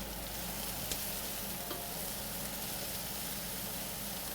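Food stirred in a pot during cassoulet cooking: a steady, close bed of bubbling, hissing noise with a few soft scrapes and clinks of the spoon, alone without talk.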